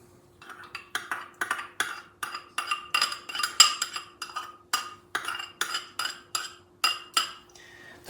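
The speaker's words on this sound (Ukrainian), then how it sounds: "Тепер все разом добре перемішуємо." A metal utensil clinks rhythmically against a pot while gelatin is stirred into hot sugar syrup, a steady series of bright taps and scrapes for several seconds without speech.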